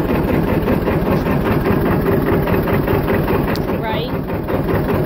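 A John Deere tractor engine idles steadily and loudly near the microphone throughout, a continuous low rumble with a constant pulse, while a voice speaks over it.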